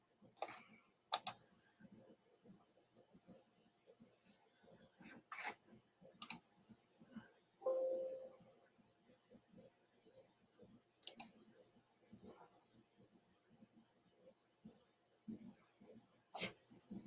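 A computer mouse clicks sharply and sporadically, close but faint, in a quiet room with soft background ticks between the clicks.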